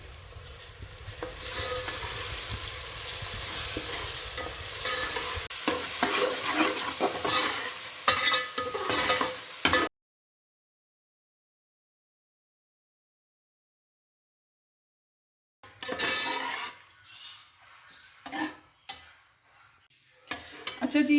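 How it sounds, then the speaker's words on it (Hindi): Onions frying in oil in a pan with strong sizzling and stirring scrapes for about ten seconds, then a silent gap, then more intermittent stirring, clinks and frying. "प्याज को ऑयल में फ्राई कर लेंगे।"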